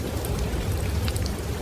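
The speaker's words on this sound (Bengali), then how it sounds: "চারিদিকে তখন ঝড় আর বৃষ্টি।" Rain and storm effect for a ghost story, a steady hiss of heavy rain pattering on surfaces with low rumbling underneath, brief and alone.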